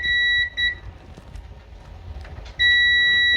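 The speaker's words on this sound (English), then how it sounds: "You hear the beep, it's good." A multimeter in continuity mode beeps while probing a dryer's high limit thermostat: a loud steady electronic tone in two short blips, a pause with faint handling noise, then a sustained beep close up.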